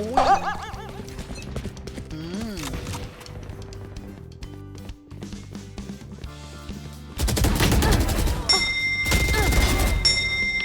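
Weapons fire in the video game Valorant comes in sharp bursts and rapid volleys that grow louder and denser near the end, mixed with game tones.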